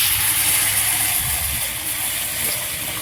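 Water pouring into a bowl of green gram, a steady close hiss and splash that runs evenly for a few seconds with no talking.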